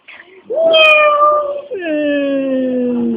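A cat gives two drawn-out, loud meows heard close up, the first rising then falling, the second longer and sliding downward; it may be a person imitating a cat.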